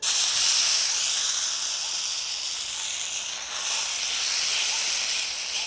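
Steady, loud sizzling of uttapam batter spreading on a hot oiled griddle, a continuous bright hiss that swells slightly midway, with no voices.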